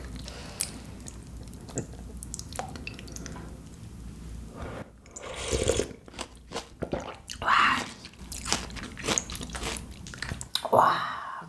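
Someone eats kimbap and dumpling soup close to the mic, with soft, wet chewing, crunchy bites and squishy mouth sounds coming in irregular bursts and growing busier toward the end.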